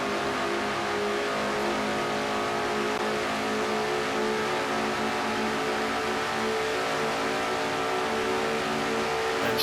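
Stock car engines roar steadily in an oval racing video game, a continuous loud drone of revving motors in the draft, held at an even level throughout with no pauses or talk.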